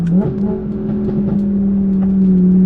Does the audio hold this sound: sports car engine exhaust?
yes